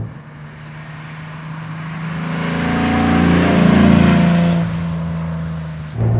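A 1960 Mercedes 300 SL Roadster W198 drives along with a steady engine drone that swells as it accelerates through the middle, then eases off, heard close and continuous without talk.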